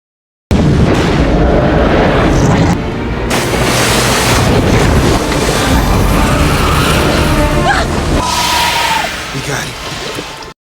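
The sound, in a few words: large explosion in a film burning a giant snake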